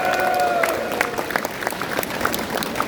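Applause from an audience at a public launch ceremony held at a Kim Dae-jung center in Gwangju, a steady wash of many hands clapping throughout, fairly loud and close.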